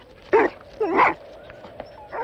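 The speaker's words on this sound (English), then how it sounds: "A migrating bear first encounters chained sled dogs, easy prey for the intruder." Chained sled dogs bark and yelp in short bursts, three loud barks spaced out with whimpering yips between them, fairly close by.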